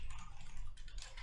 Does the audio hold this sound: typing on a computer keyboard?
yes